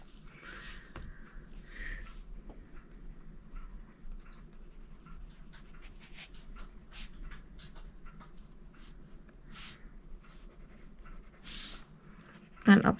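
A colored pencil scratches on paper in repeated soft strokes, with short rhythmic bursts and pauses, heard close up under quiet background noise.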